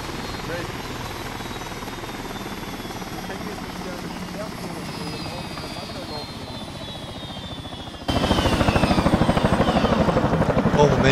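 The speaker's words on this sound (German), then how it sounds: "Der Heli war so laut" A helicopter's rotor in the video game Arma 3 Altis Life chops steadily throughout, growing noticeably louder and closer near the end, with a faint whine above the beating blades.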